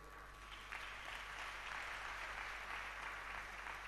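A church congregation applauding the Lord, a steady, even wash of many hands clapping together that holds at a constant level throughout, with no voices rising above it.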